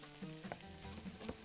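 Onions frying in a pan while being stirred, a soft brief sizzle with a few light scraping strokes, no talking.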